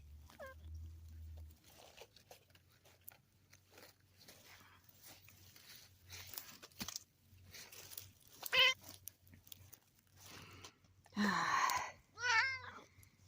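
A pet cat meows indoors several times, with brief rising calls spread across a quiet room. Faint low hum and soft handling noises sit between the calls.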